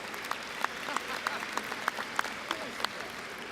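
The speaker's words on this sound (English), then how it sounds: "You can clap." Scattered, fairly quiet clapping comes from an audience welcoming a distinguished alumnus at a college award event, with a soft crowd bed and individual sharper claps popping out irregularly.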